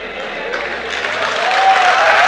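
Church congregation applauding during a sermon, a steady wash of clapping that swells slightly toward the end, with talk mixed in underneath.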